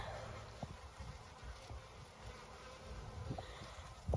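Honeybees swarming around a hollow tree in an apiary make a steady, low buzzing hum that stays fairly even throughout, with a few small knocks and rustles close by.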